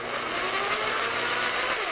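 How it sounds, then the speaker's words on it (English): A handheld jigsaw power saw runs steadily, giving a continuous high, buzzy whine with a rapid mechanical chatter much like a sewing machine, close and unbroken for two seconds with no talk. "want to show you how to use a jigsaw"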